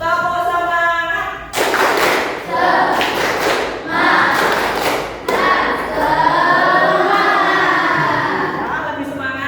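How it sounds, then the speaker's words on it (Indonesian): A school class claps a rhythmic spirit cheer in unison, sharp bursts of clapping repeating over about ten seconds, mixed with voices chanting along. "Tepuk semangat."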